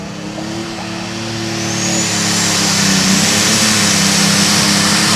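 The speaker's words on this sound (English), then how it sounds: "Diesel-powered AGCO calls this tractor Constant Sorrow." A diesel-powered AGCO pulling tractor named Constant Sorrow at a truck and tractor pull gives a loud, droning engine roar that swells in volume partway through and then holds strong.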